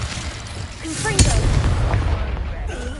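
A Confringo fire spell blasts in Hogwarts Legacy, landing as one sharp, loud boom with a rumbling tail, set against steady game ambience and music.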